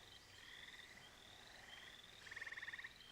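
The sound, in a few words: frogs croaking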